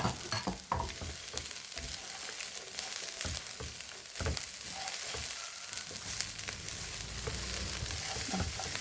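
Long beans and chopped onion fry in a pan for thoran, giving a steady close sizzle broken by irregular stirring scrapes and clatters.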